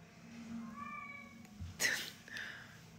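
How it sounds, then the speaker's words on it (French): A cat meows faintly once in a quiet room, followed by a short rustling thump and a brief high squeak. "Vous entendez le chat ou pas?"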